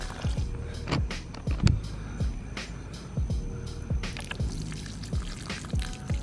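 Liquid plant nutrients are poured onto the roots of garden vines, a soft trickling and dripping stream with faint splashes, steady and close, no voices.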